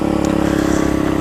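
A Coolster 125 pit bike engine revving hard and close, a loud steady buzzing drone with a rapid pulsing beat, sustained briefly without pause.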